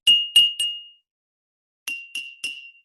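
Metal spoon tapping glasses filled with water: three quick bright ringing dings, a short pause, then three more, each tone clear and close, with no talking.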